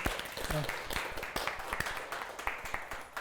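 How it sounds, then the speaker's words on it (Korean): A small forum audience of Gyeonggi community activists claps in loose, scattered bursts, individual hand claps standing out while a voice talks over them. "우리 서로 좀 수고했다 박수 한번 쳐주시고 진행할까요?"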